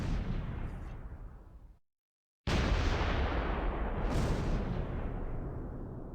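Heavy gunfire and blasts aimed at an 8.8cm anti-tank gun in the Close Combat 3 Russian Front battle form a loud, continuous roar of booms that cuts out briefly to silence, then resumes just as dense.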